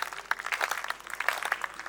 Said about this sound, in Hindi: आपकी तालियां सुनना चाहती हूँ।